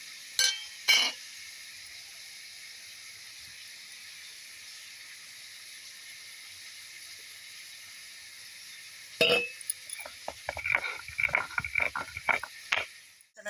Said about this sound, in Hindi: हमारी टमाटर, प्याज, लहसुन फ्राई हो रही है